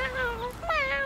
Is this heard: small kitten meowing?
yes